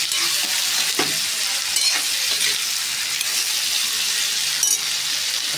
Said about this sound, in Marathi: तसेच काढल्याला आपण जिरे मोहरी, लसूण, हळद आणि कढीपत्ता फोडणी दिली.